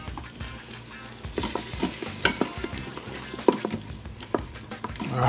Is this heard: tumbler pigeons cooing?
no